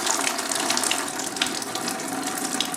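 Engine coolant from a Volkswagen MK7 GTI gushes out steadily after a hose is pulled off, a close continuous pour of liquid with no talking.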